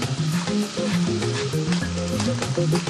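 Strips of bacon render their fat in a hot pan, giving a steady close sizzle with soft crackles running through the whole moment, with no voice over it.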